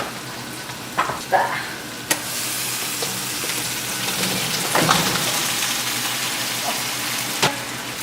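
Ingredients stirred and frying in a pan, a dense steady sizzle like rain with occasional spoon knocks and scrapes, close and continuous with no talk.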